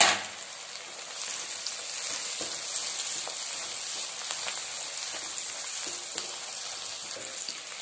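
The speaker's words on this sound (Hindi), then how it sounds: "हमने प्याज को बहुत ज्यादा नहीं भूनना है, बस जस्ट हल्का सा पिंकिश करना है" Chopped onion and green chilies fry in oil in a pan for egg masala, giving a steady, even hiss and sizzle throughout, close and moderately quiet, with no one speaking.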